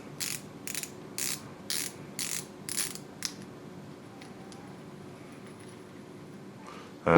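The drag system of a Revo Toro baitcasting reel is unscrewed, giving about six evenly spaced bursts of ratcheting clicks, then a quiet pause and a sharp metallic clink at the end.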